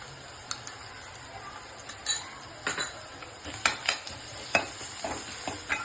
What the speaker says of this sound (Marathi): आता आपण टाकूया अद्रक लसणाची पेस्ट टाकते मी